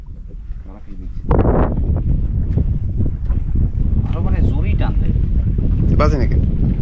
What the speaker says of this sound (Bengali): হাওয়া আছে যার কারণে কিন্তু নৌকা এক জায়গায় দাঁড়াচ্ছে না